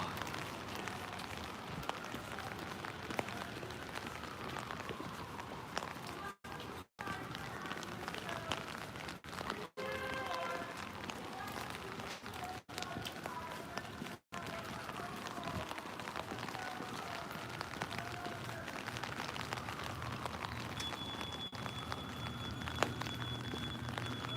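Steady rain falling on a Manhattan street near Lincoln Center on the Upper West Side, a dense continuous hiss and patter with a few brief dropouts, faint talk underneath.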